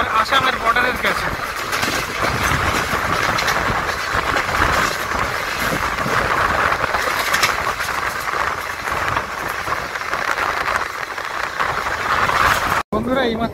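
Silchar Express running across the West Bengal–Assam border, a steady loud rumble of the moving train heard from on board, with a voice talking over it.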